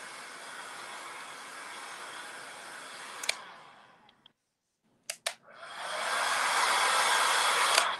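Hair dryer or heat tool blowing on craft paint on a Van Gogh–themed project, a loud steady close whoosh that cuts out briefly with a few clicks, then restarts and runs steadily again.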